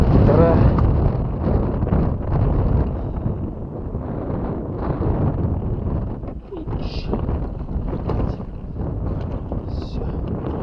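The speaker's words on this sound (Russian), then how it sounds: "У нас, как всегда, непогода. Ветра." Strong wind buffets the microphone on a boat during pike fishing in stormy weather, a loud steady roar with gusts throughout, with people talking over it.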